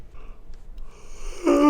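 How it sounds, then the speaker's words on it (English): A single short yawn close to the microphone, a faint breathy intake rising into a louder, strained voiced sigh at the very end. "That is a yawn, and that is what has ruined 4 cuts in a row now"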